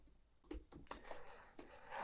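An administrator password is keyed on a computer keyboard at a router login page, a short run of soft, irregular key taps close by and fairly quiet.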